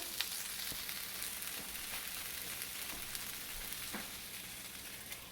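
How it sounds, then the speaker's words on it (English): Onions and ginger sauté in a pan for prawn masala, a quiet, steady sizzle and crackle with occasional soft pops and stirring sounds, with no talking. "now that you can see that the onions and ginger are well sauteed"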